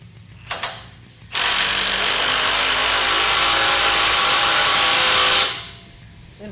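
A power tool tightens the exhaust clamp on a MagnaFlow loop-delete Y-pipe under a 2012-2018 Jeep Wrangler JK, a steady loud whirring burst of about four seconds, close up, after a couple of small clicks.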